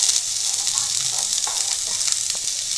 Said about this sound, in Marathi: याच्यामध्ये आता आपण कोबी टाकणार आहोत, ह्यानंतर गाजर पण टाकणार आहोत